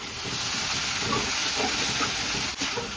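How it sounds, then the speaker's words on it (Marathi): Dried shrimp chutney steaming under a lid, a continuous dense hiss that stays even throughout, close by with a brief dip near the end and no voices. "30-30 सेकंदाची दोनदा वाफ दिली आहे"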